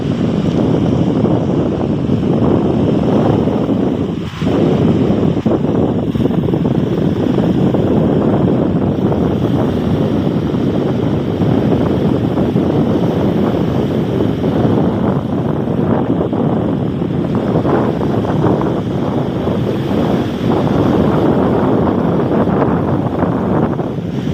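Wind and sea waves at Hat Kamnan beach in Chaiya, Surat Thani, form a continuous loud rushing wash with heavy wind buffeting on the microphone and no voices.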